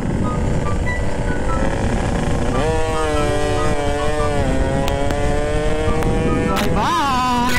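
A Yamaha RX-King two-stroke motorcycle being ridden, its engine note revving and shifting pitch in rising and falling whines over constant wind and road roar, close and loud.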